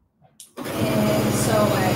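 Sewing machine starting up to stitch quilt-as-you-go scrap strips onto batting: a brief click, then a steady rapid mechanical whir with a regular pulsing rhythm, close and moderately loud, alone.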